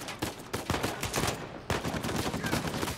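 Rapid gunfire bursts from a firefight in Uncharted 4, loud and close, with repeated sharp shots broken by a short lull before another volley.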